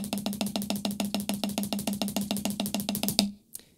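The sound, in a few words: drum kit played faster with weak hand and weak foot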